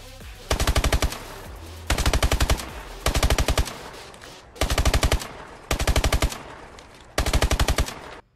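Rapid fire from the MP7 submachine gun in Call of Duty: Modern Warfare 3, six short, tight bursts, each a quick rattling volley separated by brief gaps, loud and close.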